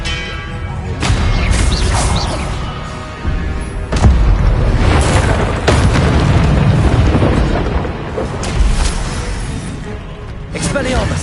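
Expelliarmus spell blasts in the video game Hogwarts Legacy: repeated sharp bursts and booming magical impacts roughly every couple of seconds over a loud, dense battle din, with voices shouting spells amid the fighting.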